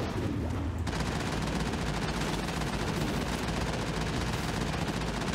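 Rapid gunfire from the Mass Effect video game rattles loud and dense throughout, a near-constant barrage of shots with no talking.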